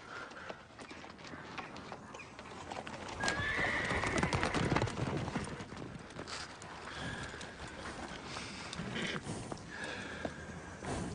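A horse whinnies and snorts while its hooves clop in a 1993 western film, with the neighing and hoofbeats carrying steadily at a moderate level throughout.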